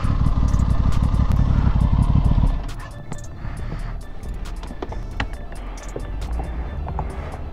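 An Aprilia RS660 motorcycle on the throttle gives a loud, deep, pulsing engine roar for about two seconds, then drops away to a lower road and wind rumble with scattered clicks and knocks.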